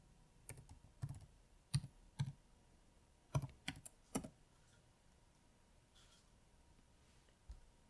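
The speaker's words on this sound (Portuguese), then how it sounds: "posso digitar a senha" A password is typed on a computer keyboard, heard as soft, close key clicks in short irregular bursts over a quiet room, then a long pause and one last tap.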